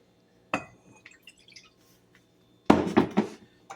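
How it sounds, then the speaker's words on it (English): Water poured into a small bag of pectin while making strawberry freezer jam, giving a brief splash and trickle, a quiet dripping lull, then a louder, fuller gush of pouring close by. "So we're gonna pour the water in."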